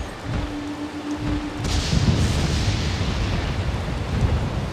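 Deep, rumbling cannon booms in a video game roll in and sustain as a heavy, continuous roar of blasts, fairly loud and distant-sounding.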